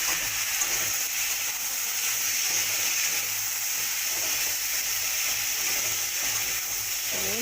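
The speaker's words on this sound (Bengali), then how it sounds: "ভালো করে সবজিগুলোকে একটু ভেজে নেব।" Vegetables fry in a pan with turmeric, chili and cumin powder, giving a steady, even sizzle that runs unbroken at close range with no talk.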